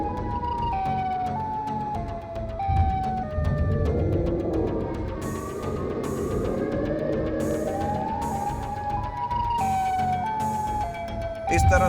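A wailing siren from the Siren Head creature in a cartoon, rising and falling in pitch, loud and continuous over a busy music and effects bed with a rumbling engine underneath.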